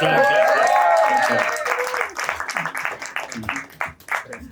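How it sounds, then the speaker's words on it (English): Clapping from a small studio audience on a show, breaking out over excited whooping voices and continuing in uneven bursts that thin out toward the end. "Come on, clap."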